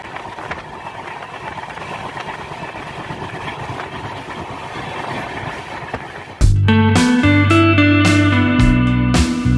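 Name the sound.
train running at 107 km/h, Rajkot to Delhi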